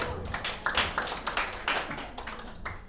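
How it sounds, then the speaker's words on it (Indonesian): Scattered clapping from a small group of adults in a classroom during a teaching session, uneven and loose in rhythm, close by and fairly quiet, with a few louder bursts of claps. "Boleh beri tepuk tangan untuk kita semua."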